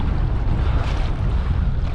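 Steady wind buffeting a lakeside bank during fishing, a loud constant low roar of gusts across the microphone, with no pauses and no talking.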